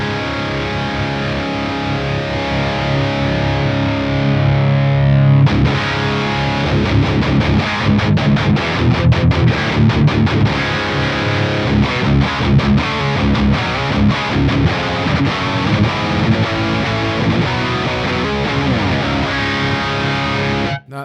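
Heavily distorted electric guitar through a Rabea amp sim loaded with EL34 power tubes, sustained chords for the first five seconds, then tight, rhythmic palm-muted chugs with choppy stops, loud and up close.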